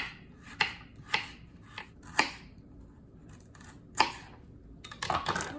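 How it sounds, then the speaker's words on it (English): A knife slicing a carrot thinly on a cutting board, sharp separate chops at an uneven pace with a quicker cluster at the end, close and clear, no talking. "I'm gonna also slice a carrot. Just slice it thinly."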